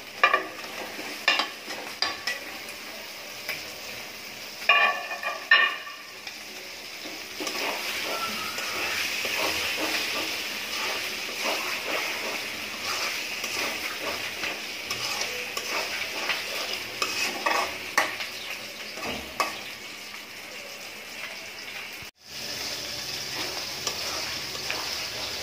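Masala cooked down with tomato sizzles and fries steadily in hot oil for a fish and tomato curry, with repeated scraping stirs of a spoon in the pan throughout and no talking.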